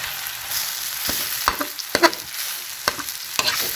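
Cooked rice for veggie fried rice sizzles in oil and butter in a pan, stirred with repeated sharp spatula scrapes and knocks over a constant frying hiss. No one speaks.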